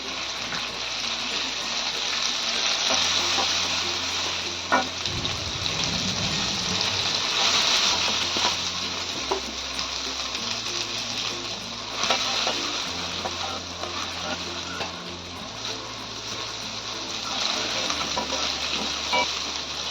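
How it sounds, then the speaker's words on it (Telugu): Okra pieces fry in a pan with turmeric, giving a steady soft sizzle with scraping and stirring noises, while a low musical tone plays faintly underneath. "అందులోనే కొంచెం పసుపు కూడా వేసుకొని వేయించుకోండి."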